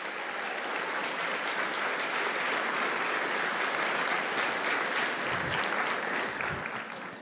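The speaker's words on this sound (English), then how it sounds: "Let's give a round of applause to our awesome students." Audience at a school event claps for students in a sustained, even wash of applause lasting several seconds, moderately distant and fading slightly at the end.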